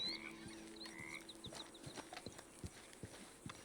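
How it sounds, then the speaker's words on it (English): In the video game Red Dead Redemption 2, a frog croaks in short repeated calls amid horse hoof clip-clops and soft outdoor ambience, faint and somewhat distant. "I do hear a frog."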